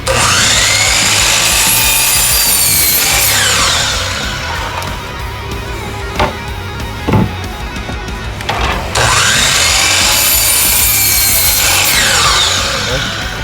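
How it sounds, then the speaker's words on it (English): A power saw whines loudly up and down as it cuts through a 1x8 wood board, making two long cuts separated by a quieter stretch with a few knocks and handling sounds. "we're going to take the remaining part of our other 1x8 and we're going to cut 2 30-inch pieces."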